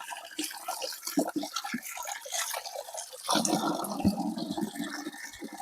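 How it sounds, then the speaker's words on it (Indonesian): Small mountain stream flowing on a hiking trail up Gunung Sangar, a steady rushing and trickling water wash that grows fuller and louder partway through, close by with no voices. "Sungai kecil."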